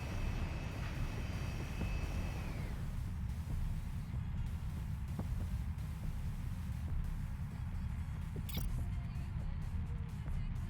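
A spacecraft engine hums and rumbles as it shifts into flight mode in the video game D.E.E.P., a steady low drone in which a higher whine fades out early, with a few faint clicks and a brief bright blip later on.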